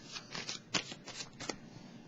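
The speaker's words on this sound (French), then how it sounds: "je vais piger une carte ici" Tarot cards being handled and drawn from a deck, a quiet run of soft papery flicks and rustles, about six in under two seconds, close but faint.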